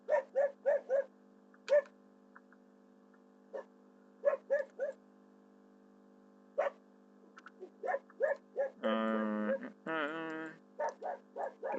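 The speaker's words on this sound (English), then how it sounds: "I'm not sure if you guys can hear my dog." A pet dog in the room barks in short, sharp bursts, pausing between them, and breaks into a longer high, drawn-out whine, heard over a faint steady hum.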